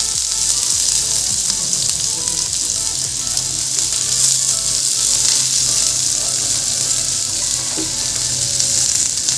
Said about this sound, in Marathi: तर मी हा कांदा तळून घेते